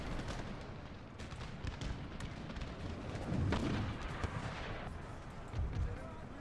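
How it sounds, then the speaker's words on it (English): Mortar and artillery fire in an Empire: Total War battle with the Ottoman Empire: repeated dull booms and distant gunfire rumble continuously in a busy battlefield mix. "Mortars might as well stop firing."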